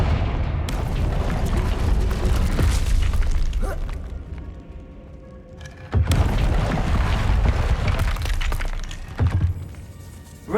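Confringo blasting-spell explosions in the video game Hogwarts Legacy, set in a goblin hideout: loud booming blasts with crackling debris, two main bursts separated by a brief lull, no talking.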